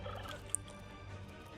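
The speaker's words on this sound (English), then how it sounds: "Gobblers are these little turkey sort of chickeny looking things, which you need to feed your army" A gobbler, a small turkey-like creature on a farm in the video game Dungeons 3, lets out a short, faint gobbling call over quiet game ambience.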